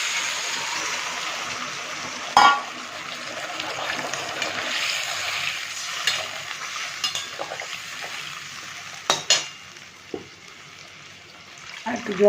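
Water poured into a simmering hilsa fish and brinjal curry with cumin and ginger, a steady broadband hiss and sizzle with a few sharp clinks of a utensil against the pot, moderately close.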